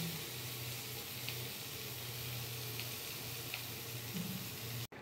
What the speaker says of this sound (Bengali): এই যে কুমড়া ভাজাটা প্রায় হয়ে গেছে, নামিয়ে দেবো।